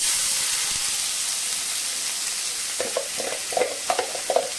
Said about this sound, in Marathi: याच्यामध्ये आता आपण हा बारीक चिरलेला कांदा टाकून घ्यायचा आहे